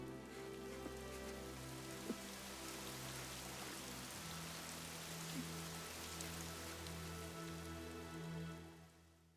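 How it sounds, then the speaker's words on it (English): Steady rain falls in the video game Fire Emblem Three Houses, a continuous even hiss with sustained low music tones running beneath it throughout. "terrible day for rain."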